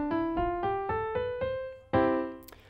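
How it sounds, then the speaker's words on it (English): A short harmonic passage in a major key, sounded as six evenly spaced plucked or struck notes stepping along, then a fuller sustained chord that rings and fades, with no voice. "Now major keys sound like this,"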